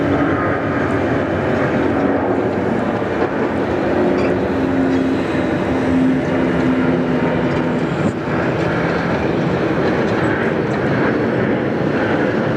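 An airliner lands on runway 34 left at Sydney Airport with a steady, broad engine roar and hiss, moderately distant and continuous, with no voices heard.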